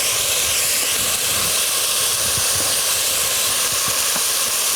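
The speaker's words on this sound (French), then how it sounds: "revenir les échalotes dans l'huile d'olive. Colorer sans brûler" Shallots sizzle steadily in olive oil in a caterer's pan, a loud continuous frying hiss that holds even throughout, close and alone.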